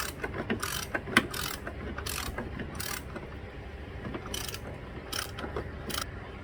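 A ratchet tightens the side valve cover bolt on a 2012 Nissan Altima, with quick bursts of close clicking separated by short pauses and faint mechanical rattles between strokes.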